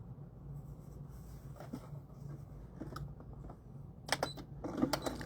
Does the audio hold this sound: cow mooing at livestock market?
no